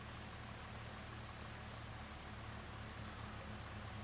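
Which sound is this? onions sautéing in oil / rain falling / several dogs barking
rain falling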